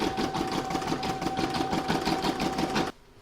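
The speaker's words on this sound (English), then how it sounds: "I'm now going to stitch round number 4" An in-the-hoop embroidery machine stitches an initial in silver thread on a contactless bank card holder, running a fast, even mechanical rattle close by for about three seconds before stopping abruptly.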